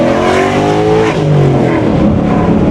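A straight-piped Ford Mustang accelerates hard in one gear from 20 to 45 mph, its loud raw exhaust rising steadily in pitch with dense harmonic growl, close and continuous.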